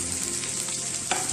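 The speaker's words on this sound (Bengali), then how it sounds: "সুন্দর করে নাড়তে হবে।" Capsicum being stirred in a frying pan for a baked dish, giving a steady close sizzle with a sharp spatula scrape near the end and no talking.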